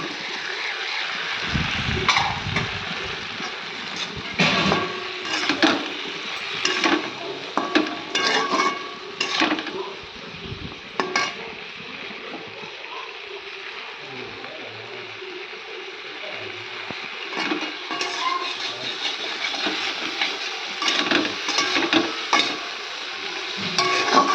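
Okra being fried and stirred in a pan after the base has been sautéed, with sizzling and frequent scraping and clinking of a spoon against the pan throughout, close and fairly loud, no talking.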